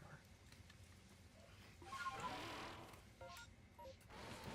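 Short electronic notification chimes ping in small clusters during a casual gaming stream, quiet tonal beeps over a faint background with a brief swell of noise in the middle.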